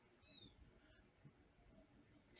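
In a quiet room during a podcast recording, a kitten gives one brief, high meow far from the microphone, faint against low background hiss.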